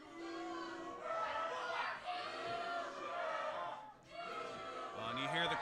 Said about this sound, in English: you hear the crowd saying goober, goober, referring to Mike Z.